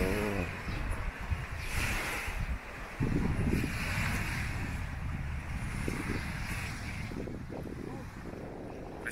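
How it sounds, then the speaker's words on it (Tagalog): Steady wind blowing across a clean sandy beach at Baleno, Masbate, in the Philippines, a constant broadband rush with microphone buffeting and a low rumble throughout, with people talking underneath. "Presko ng hangin, no?"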